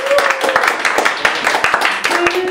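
Scattered audience clapping from a crowd, a dense run of sharp hand claps over about two and a half seconds with a tonal voice or whistle partly mixed in.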